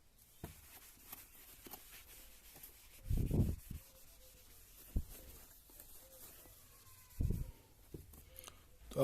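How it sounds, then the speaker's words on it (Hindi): A duster or cloth rubbing out writing on a classroom board during a maths lesson, a few soft scrubbing strokes spaced apart over a quiet background. "अब मैं इसको रब करता हूँ"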